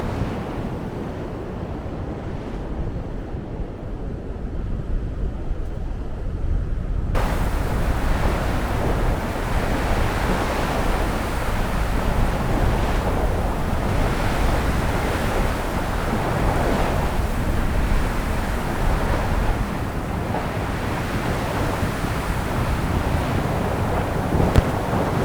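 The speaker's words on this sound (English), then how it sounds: "So there's a wind picking up now, which is not such a bad thing," Wind gusts and breaking surf roar on Luskentyre beach, a wide white-sand shore on the Isle of Harris. The noise is loud and steady throughout, with heavy wind buffeting the microphone and no voices.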